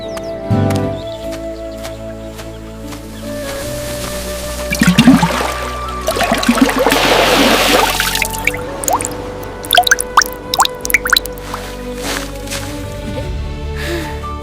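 Animated clay pot being dipped and filled with river water, with drips, squishy splashes and a gurgling pour building in the middle, then scattered drops falling at the end over a soft music bed.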